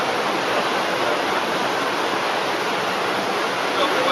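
Overflow water pours down at a wastewater treatment plant, a dense, steady rushing wash with no break, loud and close, with no voices over it.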